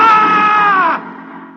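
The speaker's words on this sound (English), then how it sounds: "On the morning of June 15th, Guy Burkhart woke up screaming." A man wakes up screaming in a radio drama, a single loud, sustained strained cry that breaks off and fades into a lower groan.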